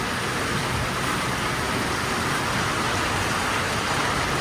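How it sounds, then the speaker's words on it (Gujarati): Heavy rain pours down in a steady, dense hiss that stays even and loud throughout, with no voices. "ફૂલ વરસાદ"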